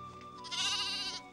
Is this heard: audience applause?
no